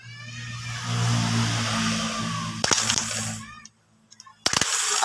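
Car starter motor under test, a steady mechanical whirring for a few seconds with some rattling clicks, a brief silence, then it kicks in again sharply, close by.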